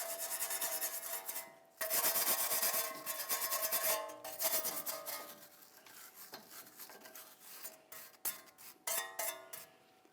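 A rag or pad rubs and scrubs the wheel hub bearing mounting surface on a Jeep Renegade's front axle, close and fairly loud in bursts of rasping strokes with brief pauses between.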